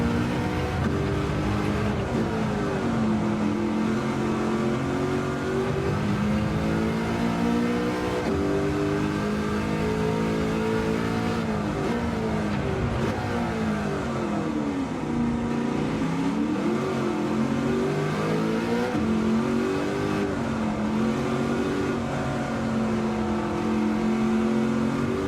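A classic American muscle car on full racing tyres with roughly 700 horsepower in Gran Turismo 7, its engine revving up and down through gear changes in a continuous loud drone with no voices.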